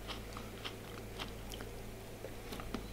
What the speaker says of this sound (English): I bit this one, it's got like a crunch. You can hear that.